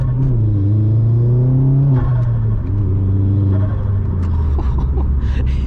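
A Vauxhall Astra VXR turbo accelerates hard at night, its engine note climbing through the revs, dropping at a gear change and pulling up again, heard loud from inside the cabin.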